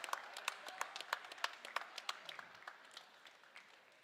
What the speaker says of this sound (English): And he took him out so they could get a round of applause.